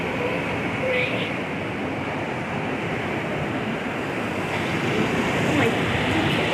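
Low, continuous thunder rumbling through a Caribbean Sea thunderstorm, a steady broadband roar that holds at a fairly even loudness throughout, with no distinct claps.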